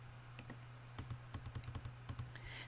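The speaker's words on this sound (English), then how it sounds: "I'm entering one here, and then we ask you to type it in again just to make sure that it matches." Computer keyboard being typed on while entering a password, a short burst of light, close key clicks in an uneven rhythm over a faint steady hum.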